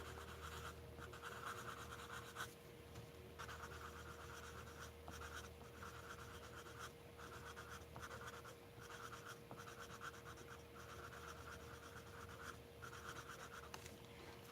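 Colored pencil strokes blending orchid purple into aqua on a coloring-book page, a continuous close scratchy rubbing with brief pauses between passes, over a faint steady hum.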